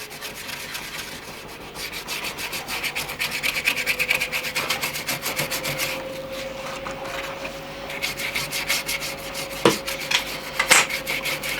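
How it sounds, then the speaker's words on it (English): A rough brush scrubs mortar-colored paint into the nooks of a painted advertising board, giving a continuous rhythmic rasping and scratching close by, steady strokes with occasional sharper knocks, and no talk. "using a rough brush and just getting it in all the nooks and crannies"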